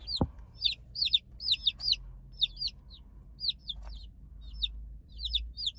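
Newly hatched chicks kept in a brooder give a run of small, high peeping calls in quick bursts, steady and fairly close, with a low hum of background noise beneath them.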